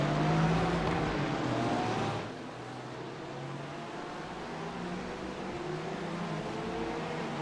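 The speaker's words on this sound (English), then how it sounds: "Pace car is rolling." A pace car rolls around the Monza oval in a GT3 racing game, its engine a steady, fairly loud drone that drops in level after about two seconds and then holds.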